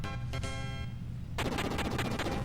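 Rapid bursts of video-game bomb explosions hit a boss in Final Fantasy Mystic Quest, a dense crackling barrage that swells louder midway and keeps going under a steady music bed.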